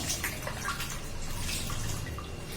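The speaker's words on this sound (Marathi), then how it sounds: "आता स्वच्छ धुवून घेते सगळं गाजर टोमॅटो वगैरे" Carrots and tomatoes being washed by hand in water, with a steady splashing, trickling wash of water and small drips throughout, fairly quiet and close, with no talking.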